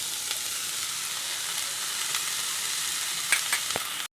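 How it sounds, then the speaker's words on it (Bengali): Bitter gourd frying in a pan after salt is sprinkled on, giving a steady close sizzle with faint stirring clicks, no voices, until it cuts off abruptly near the end. "এবার আমি একসাথে ভেজে নেব। বন্ধুরা, আমি করলার উপর দিয়ে দিলাম নুন,"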